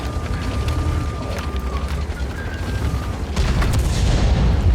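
Artillery shells explode in World of Tanks, deep booming impacts rolling under continuous battle noise, with a heavier blast swelling near the end.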